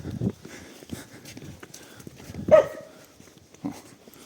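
A single short dog bark stands out midway, faint and somewhat distant, among soft footsteps and outdoor background noise in Stryiskyi Park, Lviv, in winter.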